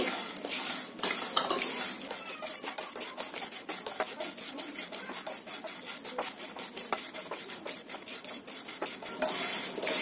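Whole spices and turmeric roots dry-roasting in a pan over a medium gas flame for Konkani masala, with steady scraping, rattling and stirring clatter throughout.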